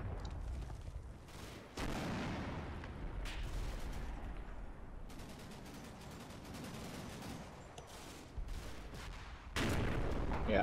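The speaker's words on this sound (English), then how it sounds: "that's a 60mm mortar, I think" Distant 60mm mortar and gunfire in the Combat Mission Final Blitzkrieg war game, a series of faint booms and bursts of crackling fire separated by quieter gaps, low in level, with no talk.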